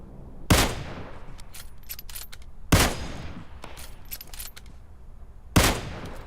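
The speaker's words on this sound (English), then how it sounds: "So we got automatic fire up there, and that is bad." Automatic gunfire in the mobile game PUBG Mobile: three loud, sharp bursts spaced a couple of seconds apart, each decaying quickly into a quieter background.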